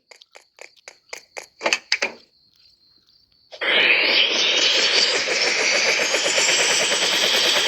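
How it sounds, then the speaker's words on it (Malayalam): Helicopter engine in the Roblox video game spooling up for takeoff, preceded by a series of sharp beeping clicks, then a loud rising whine and whirring drone that holds steady. "പൊങ്ങുന്നടാ ഹെലികോപ്റ്റർ"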